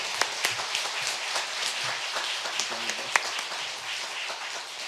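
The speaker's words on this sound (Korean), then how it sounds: "우리 쿠 목사님에게 우리 감사의 박수를 크게 한번 격려만 할게요." A church congregation claps in thanks for the pastor, a sustained, even patter of many hands with a few sharper individual claps standing out, moderately loud, without speech over it.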